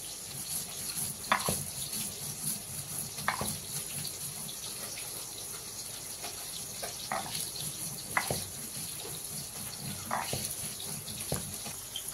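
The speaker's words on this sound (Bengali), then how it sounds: "এবার আমি বেটে নিচ্ছি।" Roasted garlic, black cumin and oil-fried chili are ground into a paste on a grinding stone, with steady, repeated scraping strokes rasping close by and no voices.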